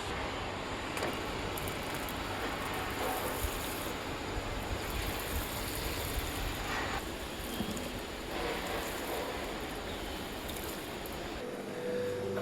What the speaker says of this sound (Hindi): तो पानी देते हैं।